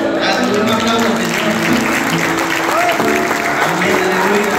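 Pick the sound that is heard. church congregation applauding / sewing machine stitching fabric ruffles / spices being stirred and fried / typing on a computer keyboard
church congregation applauding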